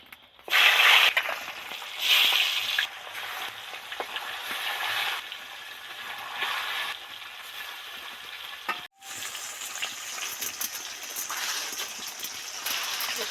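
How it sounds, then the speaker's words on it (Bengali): Bhetki fish pieces in hot oil with turmeric sizzle steadily in a kadai, a loud continuous frying hiss that swells as pieces go in, with stirring scrapes and a brief pause. "এবার এর মধ্যে মাছগুলো আস্তে আস্তে ছাড়তে থাকবো"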